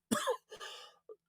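A person coughs indoors, two close, fairly loud coughs followed by a brief faint throat sound, with silence around them.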